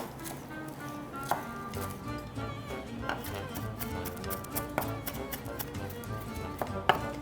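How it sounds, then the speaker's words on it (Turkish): A knife chops parsley finely on a cutting board for a Turkish piyaz bean salad, steady quick taps running throughout at close range, fairly quiet, with no voices. "Bunları ise ince ince kıyıyorum."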